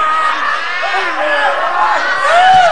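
A studio audience on an Indonesian television comedy talk show cheers and shouts in a continuous wash of voices, with rising whoops near the end.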